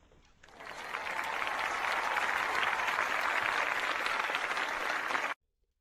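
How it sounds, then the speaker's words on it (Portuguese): Sustained applause from many hands clapping, loud and dense, building quickly at the start, holding steady for about five seconds, then cutting off abruptly. "Eu tô aplaudindo de pé"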